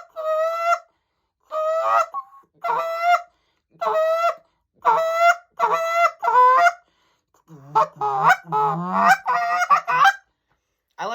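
A goose call blown in a low train, a rhythmic series of low honks, about eight evenly spaced notes, then a faster run of clucks and honks, close and loud.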